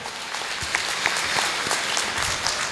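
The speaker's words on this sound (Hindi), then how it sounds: "जोरदार तालियों से स्वागत" An audience at a devotional Bhagavat katha gathering breaks into sustained applause, a dense continuous wash of many hands clapping at moderate loudness for the full few seconds.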